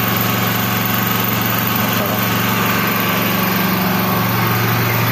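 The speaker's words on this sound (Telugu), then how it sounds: "ఇంకా కరెంట్ కూడా లేదు, జనరేటర్ వేసారు, అదే సౌండ్ ఫుల్గా" A power generator, switched on during a power cut, drones with a steady low hum at a lodging in rainy weather. The engine noise runs throughout without letting up.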